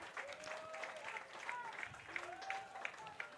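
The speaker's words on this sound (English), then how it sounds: "Now the Kellenberg faithful trying to cheer on Napolitano here." High school baseball fans in the stands clap and cheer for their pitcher, a steady patter of applause with scattered calls, under a commentator's voice.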